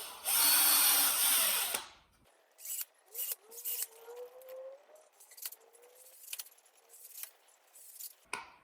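A power drill drives screws into wood while a zipline target is built: one loud, steady whirring burst lasting under two seconds, then quieter clicks and handling clatter.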